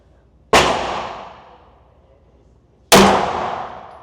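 Two sharp pistol shots from a CZ handgun fitted with a flared magazine well, about two seconds apart, each a loud crack followed by a long decaying echo.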